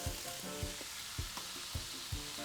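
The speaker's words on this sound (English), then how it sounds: "I'm gonna throw in some of our broccoli." Broccoli tossed into a hot buttered pan sizzles and fries steadily, with a few sharp clanks of a utensil against the pan repeating at a loose, regular rhythm, close and alone without talk.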